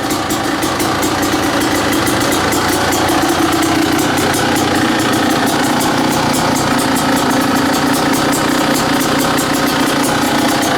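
A KDX 220 dirt bike engine with an FMF pipe and the airbox lid removed idles steadily and loudly for the whole stretch, a raw, buzzy intake roar with a fast, even pulse and no voices.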